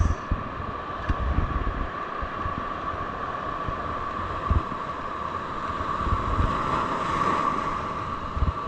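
Heavy storm surf on the sea churns steadily under gusting wind, a continuous wash of breaking waves with occasional louder surges and rumbling buffets against the microphone.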